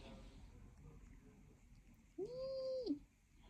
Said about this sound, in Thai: ร้องเหมียวก่อนแล้วเมียว